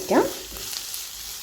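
Chopped onions and lengthwise-sliced green chillies sizzle loudly in a hot pan, a steady close frying hiss with a brief stirring scrape near the start.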